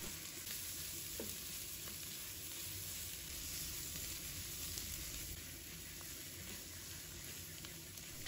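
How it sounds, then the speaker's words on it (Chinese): King oyster mushrooms stir-fried over high heat in a wok with fried egg, red pepper and cucumber give a steady, dense, close sizzle and crackle throughout, with no talking. "然后继续大火翻炒"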